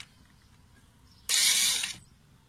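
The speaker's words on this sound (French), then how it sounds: "on dévisse les deux boulons de 13 qui se trouvent derrière" A ratchet loosens a 13 mm brake caliper bolt on a Fiat, a quick, close, loud burst of rapid clicking lasting under a second, with no talking.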